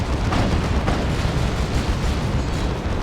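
A tank blows up in a Dawn of War 2 match between Ordo Malleus and Chaos. The explosion is a loud, rumbling roar that holds over the whole stretch, with no distinct gaps.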